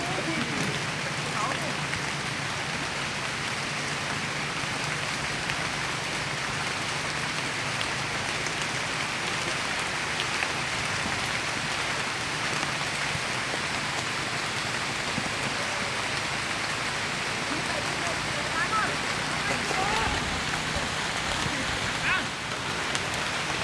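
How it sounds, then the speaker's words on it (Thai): Steady rain falls over an evening football practice field in a rural Thai subdistrict, a constant broadband hiss at an even level throughout, with faint voices audible beneath it. "แต่ฝนก็ยังตกอยู่"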